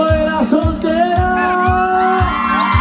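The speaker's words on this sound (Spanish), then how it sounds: "¡Solteritas, arriba los brazos! El grito de la soltera." Crowd of single women at a patronal festival in Pascaña shouting and whooping together, loud and sustained over steady festival music with a pounding low beat.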